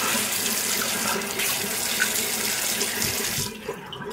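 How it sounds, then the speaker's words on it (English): Water runs from a bathroom tap into a sink, a steady splashing stream heard up close that cuts off near the end, followed by a few faint drips. "Put a little bit of water."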